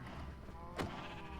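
Sheep bleat in Minecraft: one short, bright bleat stands out midway over a steady hum of game sound, fairly close and brief.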